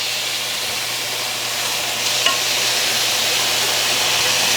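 Food fries in a hot pan with a loud, steady, hissing sizzle. A brief metallic clink comes midway as the pieces are flipped, then the sizzle carries on without talking.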